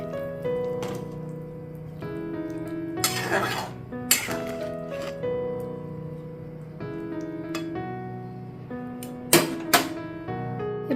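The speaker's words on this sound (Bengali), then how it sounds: "এবারে আমি ভিজিয়ে রাখা ডালিয়াটা দিয়ে দিচ্ছি এর মধ্যে দিয়ে ভালোভাবে মিশিয়ে নিচ্ছি" A spoon scrapes and clinks in a cooking pot as soaked broken wheat (dalia) is stirred into a vegetarian khichuri, several distinct metallic knocks rising over a soft background of music.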